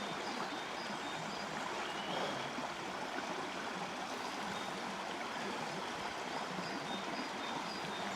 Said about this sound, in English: Get a wee look down at the water there. And listen to it for a second and the birds.